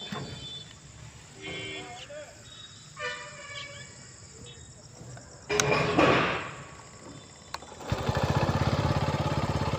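A TVS XL 100 BS6 moped, just repaired for a TPS sensor fault, is started and its engine revs up loudly in bursts, then settles into a steady running drone after earlier quieter moments with a voice talking.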